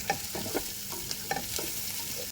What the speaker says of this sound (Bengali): তারপর ওই তেলেই পেঁয়াজ কুচি আর আলু যেটা কেটে রেখেছিলাম সেগুলো